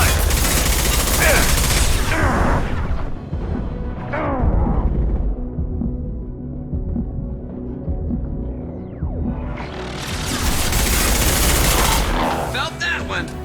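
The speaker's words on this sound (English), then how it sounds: "Taking heavy fire." Heavy gunfire erupts in a sci-fi firefight in Mass Effect 2, loud dense bursts at the start, dropping to a low rumbling lull before sustained shooting swells back up near the end; voices talk during the action.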